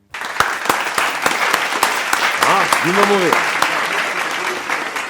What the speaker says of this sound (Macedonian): Аплауз за мен.